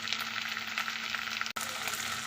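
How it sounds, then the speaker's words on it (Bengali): Snake gourd pieces added to onions frying in oil, a continuous close sizzle with crackling spatter, a brief gap, then the hiss carrying on. "পেঁয়াজটা ভালো করে ভাজা ভাজা হয়ে গেছে এখন দিচ্ছি চিচিঙেগুলো"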